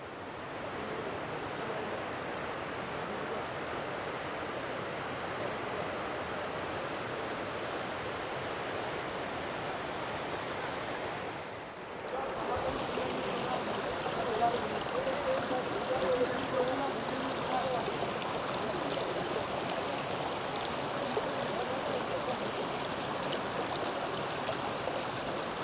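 Water from the Sitakunda waterfall and stream rushes in a steady, broad roar that holds constant throughout, briefly dipping midway before returning slightly louder.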